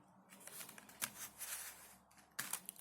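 Tarot cards being shuffled up close, a few quick riffling bursts separated by short pauses, quiet and crisp with no talking.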